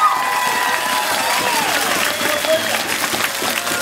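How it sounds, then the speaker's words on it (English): A crowd applauds and cheers for the winner at the 2012 Cairns 70.3 triathlon, the clapping steady and fairly close, with whistles and voices mixed in. "we're just going to give you a big round of applause"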